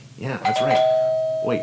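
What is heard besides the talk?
doorbell ringing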